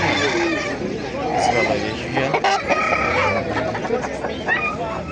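Roosters crow and hens cluck loudly at a busy poultry bazaar in Andijan, Qo'rg'ontepa, a dense overlapping chorus of birds close by with people talking underneath.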